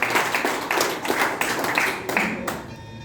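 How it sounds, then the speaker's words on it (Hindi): Seminar audience at a success seminar clapping for an absent guest, with a few scattered hand claps and moderate applause in a hall, steady for a few seconds with no speech. "उनके लिए जबरदस्त तालियां।"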